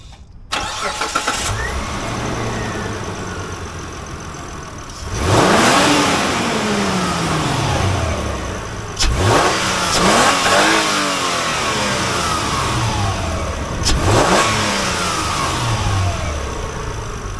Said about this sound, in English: let's start the engine and we feel the difference of the new K&N filter